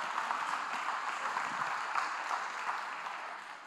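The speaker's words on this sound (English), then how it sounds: "Come on and just applaud God for the Holy Spirit." Church congregation applauding together during a sermon, a steady, dense wash of clapping that holds at an even level throughout with no pause.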